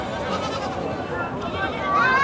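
Goats bleat with wavering cries over constant overlapping chatter in a busy outdoor goat market in Gudur, one louder bleat rising near the end.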